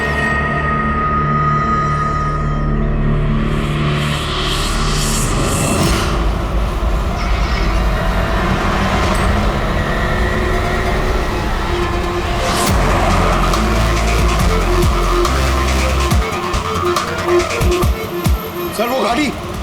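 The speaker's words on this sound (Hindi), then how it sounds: "सर वो गाड़ी।" Car speeding hard with tires skidding in a crime drama scene: loud, continuous engine roar and road noise with screeching bursts, voices briefly heard over the din.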